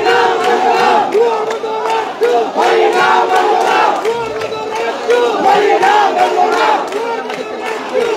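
A crowd of students at a Rajshahi University rally chants political slogans about the RAKSU student union election in loud, rhythmic unison, with repeated call-and-response phrases and no pauses.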